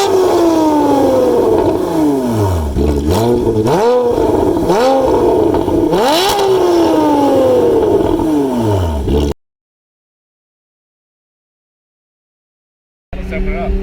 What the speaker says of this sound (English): So let's get it cranked up and show you a cold start.